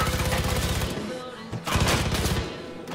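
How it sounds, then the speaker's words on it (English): Far Cry 5 video game gunfire, with rapid automatic bursts crackling in dense rhythmic strings, a brief pause, then a second sustained volley, all loud and close amid game sound. "Why are they shooting me?"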